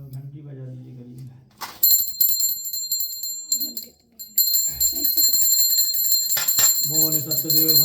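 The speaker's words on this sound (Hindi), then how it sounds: "घंटी बजा दीजिए करिए।" A hand bell rung during a Hindu Satyanarayan puja rings in bright, sustained bursts, with a voice chanting or speaking before and between the ringing.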